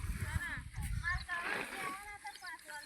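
Irrigation water splashes and gurgles as it flows into an onion field, a continuous near wash with voices talking over it throughout.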